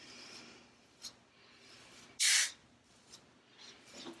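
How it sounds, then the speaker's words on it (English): Single short, loud hiss of a hair finishing mist sprayed from a can, with quiet handling noises before and after. "now I'm gonna take just this finishing mist, lightly spray it"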